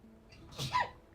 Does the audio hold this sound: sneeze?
yes